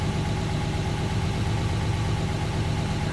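A 1969 Mercedes 280SE idles steadily up close, its low, even engine drone running unbroken with no voices over it.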